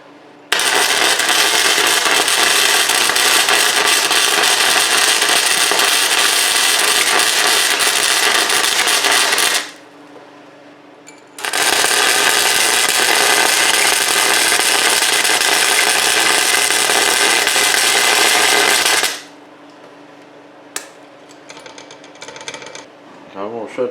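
A DC-converted flux-core welder laying a bead, a loud steady crackling hiss in two long runs of about nine seconds each separated by a short pause, followed by quieter workshop clatter.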